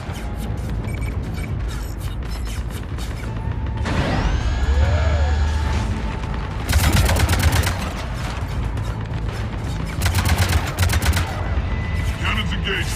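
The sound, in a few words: cannons firing in video game Mass Effect 3 Omega DLC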